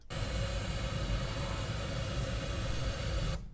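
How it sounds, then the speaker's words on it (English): A steady broadband hiss of pink noise, generated in Audacity, plays at constant level for a few seconds, then cuts off abruptly. "Okay, so that's pink noise."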